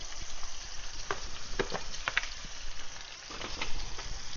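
A seasoned fish fillet sizzles steadily in a hot pan, with faint pops and crackles scattered across a few seconds. The frying is moderately quiet and close, and there is no talk.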